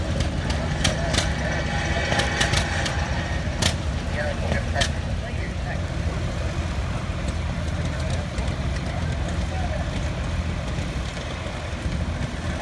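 A 1974 John Deere Model 140 tractor engine runs steadily in a parade at a two-cylinder show, a continuous low rumble mixed with outdoor crowd noise and occasional clicks, with voices over it.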